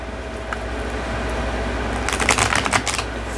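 Tarot cards being shuffled, a quiet background hum followed by a close burst of rapid riffling flutter near the end.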